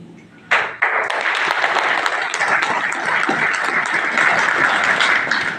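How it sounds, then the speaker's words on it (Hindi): An audience bursts into loud, dense applause after a brief quiet moment, the clapping sustained and close for several seconds. "फिर भी आप लोग ने मेरे लिए ताली बजा दी।"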